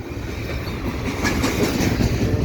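A CP freight train of stacked cars rolls past at Pine Beach, a loud close steady rumble with rhythmic wheel clatter building slightly toward the end, no voices.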